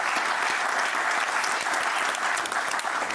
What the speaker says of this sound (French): je voudrais vraiment qu'on applaudisse très fort Christophe avec nous